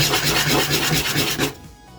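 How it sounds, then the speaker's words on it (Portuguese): Sandpaper rubs quickly back and forth over a small plastic timer knob part from an air fryer, giving close, loud, rhythmic rasping strokes that stop abruptly near the end. "Dá uma lixadinha para ele ficar mais retinho ali."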